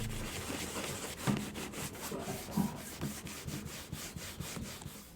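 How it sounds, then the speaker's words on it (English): Acetone is rubbed over leather shoes to strip the factory finish, giving a steady close scrubbing and rasping in quick repeated strokes. "I am removing the factory finish with acetone."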